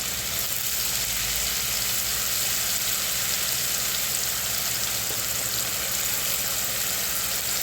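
Chopped onion dropped into hot oil with garlic in a pan over lowered heat, giving a steady, continuous sizzle and frying hiss throughout, fairly loud and close with no talking.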